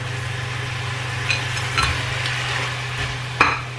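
A sweet and sour Hong Kong style fish fillet fries in a pan with a steady low sizzle and hum. A few faint clinks and scrapes of a utensil sound, one louder near the end.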